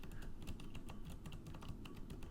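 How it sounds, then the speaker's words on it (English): Rapid clicky keystrokes on an Alienware M15 R5 Ryzen Edition laptop keyboard, a steady close patter of sharp taps with a slight metallic ring, no voices. "But this keyboard it's clicky"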